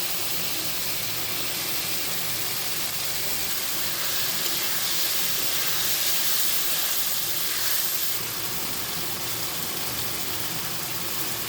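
Potatoes fry in hot spiced oil for a snakehead fish curry, giving a dense, continuous sizzling hiss at steady loudness with no talking.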